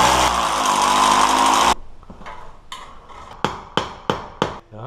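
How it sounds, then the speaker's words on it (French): A power drill bores into a wall to fix metal brackets during drywall partition installation: a loud continuous whine that stops abruptly, followed by a series of sharp knocking impacts. "Maintenant, on va percer les équerres"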